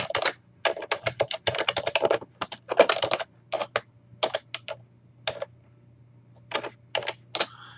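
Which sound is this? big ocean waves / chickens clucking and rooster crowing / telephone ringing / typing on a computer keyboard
typing on a computer keyboard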